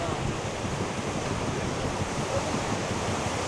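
Ocean waves at high tide on a shore at night make a steady, broad rushing wash with no clear breaks, heard alone.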